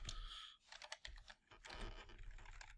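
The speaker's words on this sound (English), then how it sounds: "I'm struggling with my typing." Someone types on a computer keyboard nearby in quick bursts of clattering keystrokes, with a short pause near the middle before the tapping picks up again. No one speaks.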